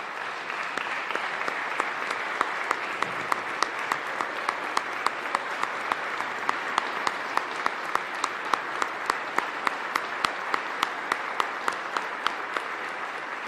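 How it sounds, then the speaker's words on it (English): A room claps for city department directors at a Providence mayor's budget address, a steady, even round of applause throughout with a few sharper individual claps standing out near the front. "give them a round of applause"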